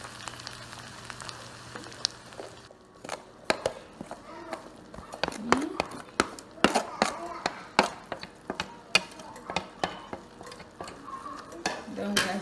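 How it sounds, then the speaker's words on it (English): Mexican salsa rice with tomatoes gets stirred in a pot, a run of quick, close scrapes and clinks that grow busier after the first few seconds, with light sizzling underneath. "Then we stir everything together."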